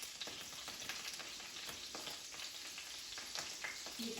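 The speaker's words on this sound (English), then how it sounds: "You can clearly hear the butter now sizzling away." Elderflower fritters fry in butter in the Tudor style, giving a continuous, close, even sizzle with scattered pops and crackles throughout and no speech.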